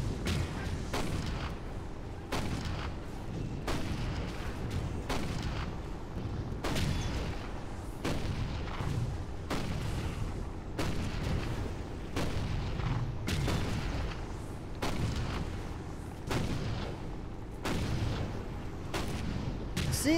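Cannons fire in the Toy Soldiers video game during a World War I tank battle, sending out a steady barrage of heavy booming shots every second or so, with no talking.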